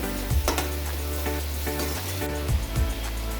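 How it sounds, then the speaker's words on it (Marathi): Onion and masala paste frying in a pan with turmeric and chili powder, a steady close sizzle broken by occasional stirring scrapes and clinks. "आता त्याच्यामध्ये हे मसाला मिरची पावडर मसाला आणि मिरची पावडर चांगली फ्राय करून घेते या वाटणामध्ये"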